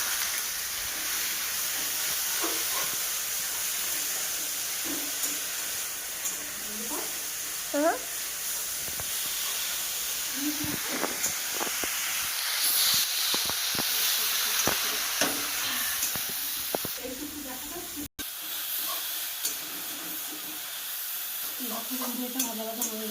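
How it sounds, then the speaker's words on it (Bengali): Mustard flowers fry in a pan for a mashed mustard-flower dish, giving a steady close hiss and sizzle with intermittent stirring clicks and scrapes, and a brief pause near the end. "এটাকে ভালো করে ভেজে নেবো।"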